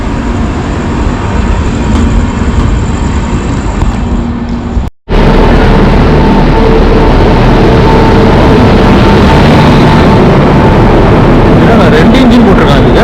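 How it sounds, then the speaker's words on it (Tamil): A Rajkot passenger express train hauled by two locomotives, a WAP-7 and a WAP-4, rumbles past loud and close as a continuous roar of wheels and engines, with a brief cut partway through. "ரெண்டு இன்ஜின் போட்டிருக்காங்க இதுக்கு."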